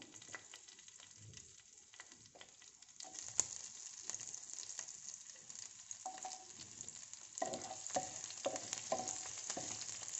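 Faint crackling and popping of chopped green chilies frying in hot oil for sambhar, sparse at first then busier, with light stirring scrapes near the end.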